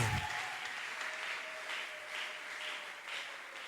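A church congregation breaks into applause and acclamations during an evening service, an even, steady wall of clapping with a brief thump at the start, heard from within the crowd.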